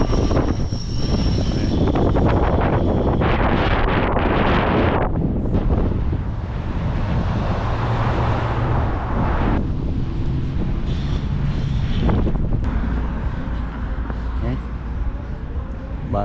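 Strong wind roars and buffets the microphone throughout at a Toronto bus stop, with heavy rumbling gusts and a faint voice now and then.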